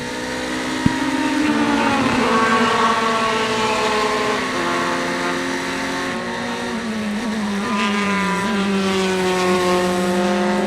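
Race cars at the June Sprints roar past on the racetrack, loud sustained engine drones with shifting pitch as several cars pass in succession and accelerate, continuous and close without any talk.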